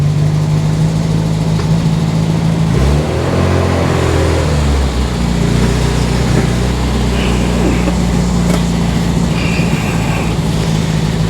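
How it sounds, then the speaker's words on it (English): A cold Riley Kestrel 1300 engine idles high and steady, a loud continuous hum close by with a brief dip and wobble in pitch partway through. "that idle, now it's cold, it's still high, but it's settled a bit more"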